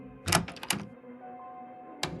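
The lounge door in the game Frequency Missing opens with a pair of short knocking thunks and a mechanical clatter, followed by a quiet hum and another brief clunk at the end.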